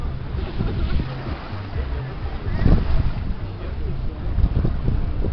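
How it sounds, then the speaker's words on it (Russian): Steady wind on a beach in Koktebel buffets the microphone with low rumbling gusts that swell and ease, a continuous rushing noise with no clear voices. "Видишь, ветер даже парашют не отпускает."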